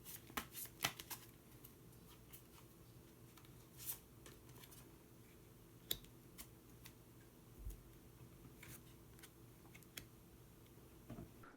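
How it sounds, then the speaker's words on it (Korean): Soft shuffling and sharp flicks of a tarot deck as a hidden card is drawn, scattered quiet clicks and rustles against a near-silent room, no talking. "그러면 히든 카드를 한 장 더 뽑아보도록 하겠습니다."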